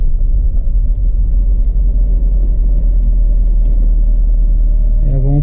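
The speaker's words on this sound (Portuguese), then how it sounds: "barulhinho do motor, ó." A car engine runs steadily at close range, a continuous low rumble throughout with a brief higher tonal sound near the end, while someone drives and demonstrates fuel-saving gear changes.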